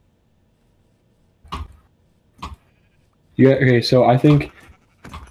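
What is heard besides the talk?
sheep bleating in Minecraft video game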